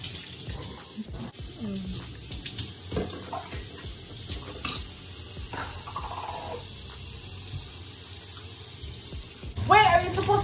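Tap water runs steadily into a sink while bleached hair is rinsed at home, a soft continuous splash with irregular bursts and clatter, and people talk quietly over it.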